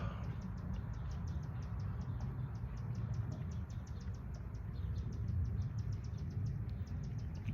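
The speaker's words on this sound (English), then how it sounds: "Birds sound beautiful right now." Small birds singing outdoors, with a rapid, repeating chirp sequence that runs steadily over a low, continuous background rumble, fairly faint and distant.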